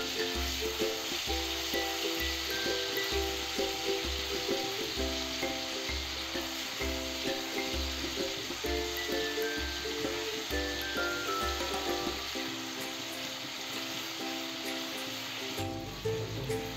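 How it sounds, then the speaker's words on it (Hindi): Ginger garlic paste fries with cinnamon, chilli and bay leaf in a pan for Maharashtrian chicken curry, a continuous soft sizzle with low, regular thumps of stirring beneath it. "उसमें मैं जिंजर गार्लिक पेस्ट ऐड कर रही हूँ और उसको 2 मिनट तक भून के ले रही हूँ अच्छे से"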